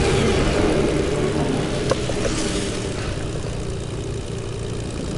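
Propeller airplane engine in a video game, a steady droning hum with a brief click near the middle, holding loud and constant throughout with no talk.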